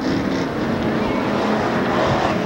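A Ford Explorer mud bog race truck at a 1994 Class 6 mud bog in Lake Odessa, Michigan, its engine roaring steadily and loudly throughout, with a faint trace of voices in the background.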